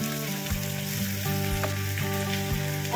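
Potatoes frying in hot oil in a kadai make a steady, close sizzle with a broad crackling hiss, alone and without talk, while several low thumps fall about once a second.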